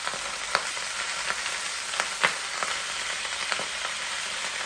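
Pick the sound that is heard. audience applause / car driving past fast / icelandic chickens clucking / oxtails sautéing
oxtails sautéing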